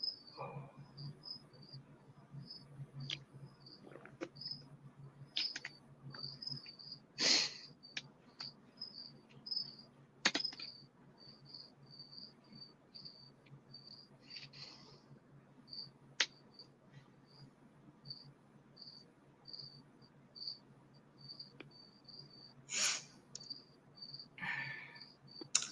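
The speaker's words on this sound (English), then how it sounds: "I can't do anything about the crickets, unfortunately" Crickets chirp in a steady, faint pulsing rhythm throughout a quiet outdoor scene in Mexico, with occasional clicks and handling knocks breaking in.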